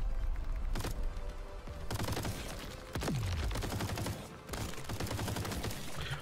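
Powerful weapon shots in the Crab Champions video game, loud rapid bursts of gunfire with heavy impacts and a falling whoosh midway, firing in dense clusters separated by short gaps.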